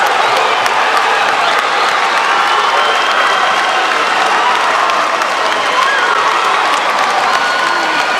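A dense crowd roars and cheers with applause and shouts after a submission win at an MMA fight, loud and sustained throughout with a wild, excited energy.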